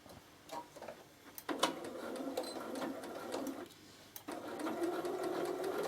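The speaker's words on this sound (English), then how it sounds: "And then just start quilting it." A Bernina sewing machine quilting a Christmas hand towel runs in quick rapid stitching bursts, pausing briefly between runs, close and fairly quiet.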